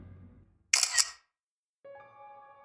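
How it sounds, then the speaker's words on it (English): A single sharp camera shutter snap, loud and close, heard inside a house, followed by a brief silence and then a steady tonal hum. "Everyone knows that sound a camera makes when the shutter snaps a picture."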